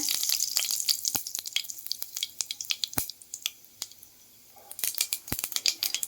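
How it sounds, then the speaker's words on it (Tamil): Sharp irregular pops and crackles burst from hot oil, rapid and close, with a brief lull before the spluttering picks up again. "எண்ணெய் சூடானதும் கடுகு ஆட் பண்ணிக்கோங்க"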